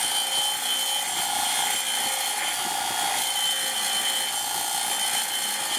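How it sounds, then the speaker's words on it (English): A wire brush scrubs the end of a flex cable for an RC boat before soldering, giving a steady, close, bright scratchy rasp that runs continuously and fairly loud with no talk over it. "I got a wire brush on this side. You just clean it up."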